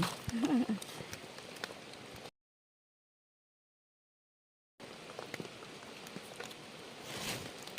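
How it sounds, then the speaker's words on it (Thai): Rain falling outdoors in Mae Hong Son during a mushroom-foraging trip, a steady broadband patter and hiss heard on either side of a silent gap, with a voice briefly present near the start. "ฝนตกแล้ว"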